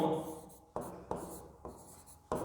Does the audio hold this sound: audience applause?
no